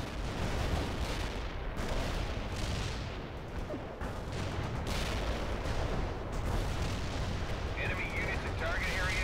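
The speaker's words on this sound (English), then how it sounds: "Artillery barrage inbound." Artillery barrage in the video game World in Conflict, a dense faint rumble of repeated booms and blasts overlapping continuously, with voices speaking amid the shelling.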